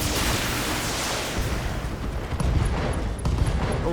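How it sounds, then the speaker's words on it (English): Mech ammunition cooking off in BattleTech, a dense roar of explosive blasts with sharp booming hits near the end, loud and continuous with no talk over it. "Oh, ammo explosions."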